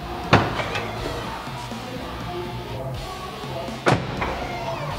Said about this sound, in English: check whether the door opens and shuts